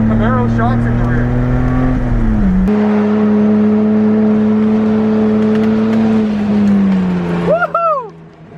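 A Mazda Miata fitted with iBox springs and Camaro rear shocks drives hard, its engine droning loud and close through sustained pulls, with a shift and a brief dip before tyres chirp near the end.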